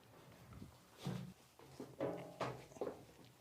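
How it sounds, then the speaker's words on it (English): A few clunks and latch clicks as the heavy cargo doors of a Kia K2500 van are opened, with low thuds and handling noises spread over a few seconds. "Now these doors open with relative ease."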